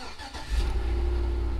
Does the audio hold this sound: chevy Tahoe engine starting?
yes